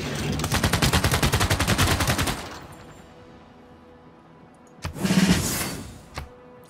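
Gunfire from units attacking in Civilization VI: a rapid, loud burst of automatic shots in a fast, even rhythm lasts a couple of seconds, then a hush, then a second heavy blast with a short rumbling tail and one last crack.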